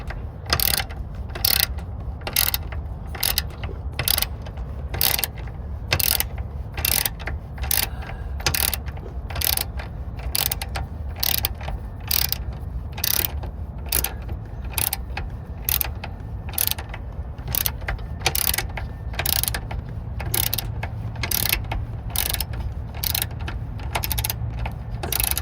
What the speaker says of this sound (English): Okay, you hold your ratchet still.